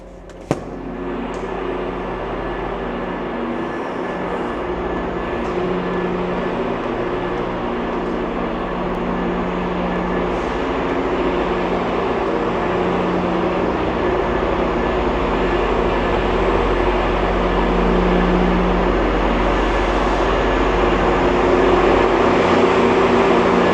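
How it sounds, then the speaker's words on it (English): A VIA Rail passenger train rumbles steadily in a large echoing Toronto station, its low drone slowly building as it pulls away. "There's a Via train, and another Via train is departing there."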